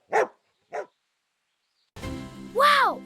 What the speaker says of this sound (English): Dog says woof woof.